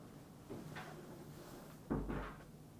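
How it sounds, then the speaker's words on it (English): A door is pushed shut indoors: a soft first contact followed by a firmer thud and latch about a second and a half later, faint and close, with no talk. "Can you close the door?"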